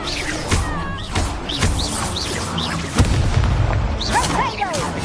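The Incendio fire spell cast in Hogwarts Legacy gameplay, bursts of whooshing flame and booms over a busy game soundscape with chirping effects, several hits in quick succession, close and loud.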